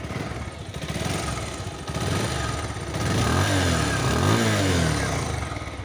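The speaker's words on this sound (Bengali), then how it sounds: "বাইকটা যদি আপনাদের আমি স্টার্ট করে দেখাই" A Bajaj Pulsar motorcycle engine in showroom condition starts and runs close by, with a steady mid-pitched idle that rises in a couple of brief revs.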